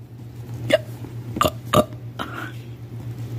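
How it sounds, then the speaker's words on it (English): A Baby Alive toy doll gives several short electronic burping sounds, four or so close bursts spaced under a second apart, over a low steady hum, with no talk. "Now she's burped."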